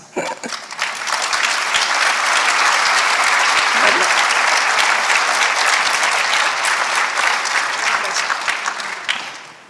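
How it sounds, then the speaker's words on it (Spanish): Audience at a panel on solidarity and health applauds the news of sixteen cataract operations, a dense, steady wash of clapping that swells quickly and holds strong for nearly ten seconds before tapering slightly. "Un aplauso."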